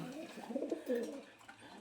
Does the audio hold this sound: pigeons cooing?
yes